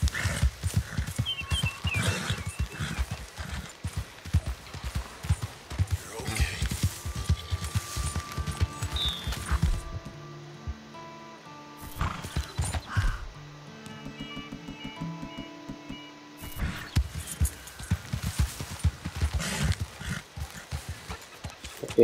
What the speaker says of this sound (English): Jump horse, jump quickly.